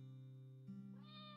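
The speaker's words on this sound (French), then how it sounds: "Dis à ton chat d'arrêter d'essayer de pêcher mon poisson!" A cartoon cat meows in a long, drawn-out, strained cry that rises in pitch partway through, heard alone without speech, as it tries to fish a goldfish out of its bowl.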